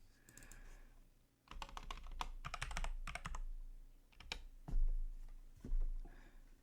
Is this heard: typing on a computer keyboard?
yes